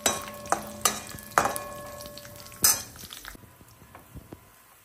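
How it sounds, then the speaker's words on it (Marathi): Dry fruits (cashews, almonds, raisins) and grated coconut are sautéed in ghee in a pan, with sharp spoon clinks and scrapes at uneven intervals over a soft sizzle, close up and without speech. "थोडंसं असं तुपात परतून घेतलं."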